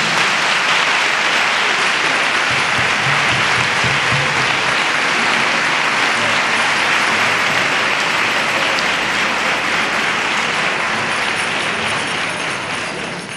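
A crowd applauds steadily and loudly for several seconds at a campanilleros choir gathering, the clapping dense and sustained before gradually tapering off at the end.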